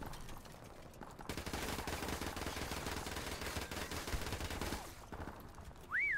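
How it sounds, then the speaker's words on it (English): Sustained automatic gunfire in Modern Warfare Remastered prop hunt, a rapid continuous burst lasting several seconds with a short gap near the start, then it stops and a rising electronic tone follows. "they're shooting right next to him"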